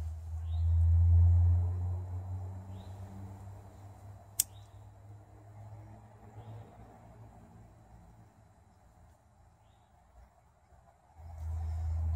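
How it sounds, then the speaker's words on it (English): Evening road traffic on town streets at night, a low distant rumble swelling as vehicles pass far off, fading quieter through the middle and building again at the end, with a sharp click and faint chirps over it. "A little bit of the evening traffic, so that kind of gives me an indicator of what time it is."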